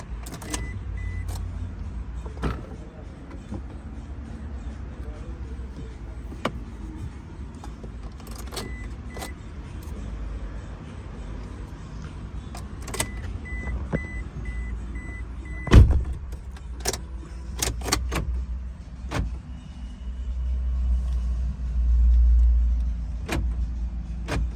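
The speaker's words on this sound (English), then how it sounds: "So let's done the programming remote and let's start the car." A 2015 Toyota Fortuner with all keys lost has its engine started, producing a low steady idle rumble with scattered clicks, key jangles and a brief thump.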